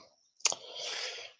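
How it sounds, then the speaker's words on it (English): A short burst of computer keyboard typing, a sharp click followed by a brief soft clatter of keys, close and fairly quiet. "We're typing in"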